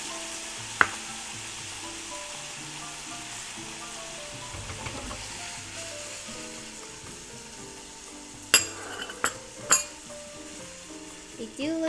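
Food sears in a hot pan with a continuous soft sizzle throughout, joined near the end by several sharp clinks of utensils against the pan.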